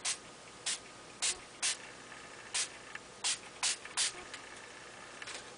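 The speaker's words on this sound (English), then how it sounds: "I'm just going to spray this generously" Apricot Nectar ink mist sprayed onto a 3 3/4 by 5 inch cardstock piece: about ten short, sharp hissing spritzes in quick, slightly irregular succession, close and alone.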